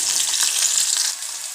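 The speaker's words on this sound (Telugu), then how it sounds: "ఉల్లిపాయ వేసి ఫ్రై చేసుకోవాలి" Onions fry in hot oil in a pan, a bright continuous sizzle that holds steady and close for the whole short stretch, with no talking.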